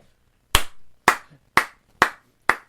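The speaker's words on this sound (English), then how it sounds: "I'm giving Anthony a round of applause" Five sharp, evenly spaced hand claps ring out close and loud in a quiet room, with about half a second between each.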